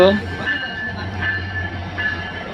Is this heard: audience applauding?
no